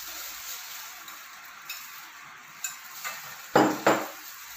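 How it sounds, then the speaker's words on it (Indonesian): Fermented cassava (tape) is whisked in a bowl, giving faint soft scraping at first, then a few louder sharp clinks and scrapes toward the end. "Kocok 150 gram tape."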